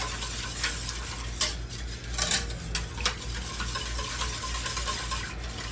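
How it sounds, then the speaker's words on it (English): A thickening mixture for Swiss steak stirred in a pot during pressure-canning prep, with a soft, steady scraping swirl and a few brighter clinks of utensil against the pot over a constant low hum. "we're going to stir it to combine it"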